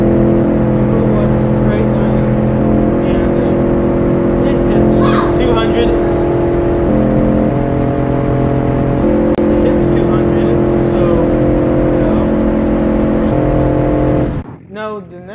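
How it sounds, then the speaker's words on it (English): A 12-liter V12 engine in the BeamNG driving game holds a loud, steady high-rev drone with a stacked harmonic whine for about fourteen seconds, then cuts off abruptly near the end. "This one is a 12-liter V12."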